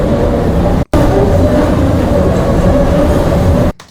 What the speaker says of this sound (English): I've never heard any other train sound like that